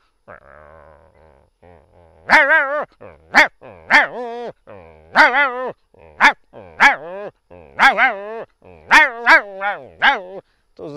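A voice imitates two dogs fighting, a dog and a female dog: a low grumbling growl opens, then a loud run of about a dozen sharp, strained barks and yelps in uneven bursts, close up.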